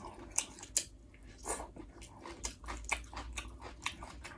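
Someone bites into a large beef meatball stuffed with tendon and chews it close to the mic, giving a few sharp crunchy bites followed by moist, squishy chewing with no speech.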